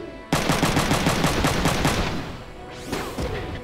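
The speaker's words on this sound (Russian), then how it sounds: "Опрокидывающий выстрел." A rapid burst of gunfire in the PlayStation game Front Mission 3 rattles out loudly for about two seconds, followed by a short swooshing impact and a second quick volley.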